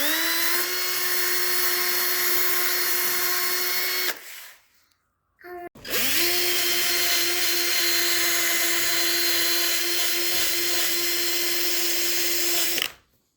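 A power drill drives screws upward from underneath into a wood slab top on stock cabinets, whirring loud and close in two long sustained runs separated by a brief pause with a short blip.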